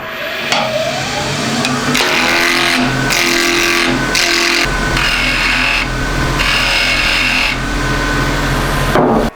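A wood lathe trues up a wooden blank held in a chuck for a pendant back, giving a steady loud motor hum with bursts of scraping and cutting noise as the tool meets the spinning wood.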